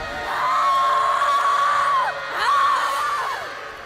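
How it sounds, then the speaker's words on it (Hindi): A roar in a Hindi mythological TV drama, attributed to the goddess Tara in her fierce form, comes as two long, loud, wavering howls, the first drawn out and the second shorter, against a dramatic background. "ये किसकी गर्जना है?"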